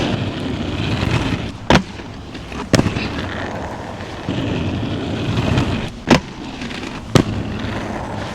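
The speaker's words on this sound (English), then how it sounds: "The thud on the lock-in is so satisfying." Aggressive inline skates in Faction Tactical V1 boots with Intuition Premium liners land a far-side grind, giving four sharp, loud thuds spaced out over steady wheel roll and outdoor rumble.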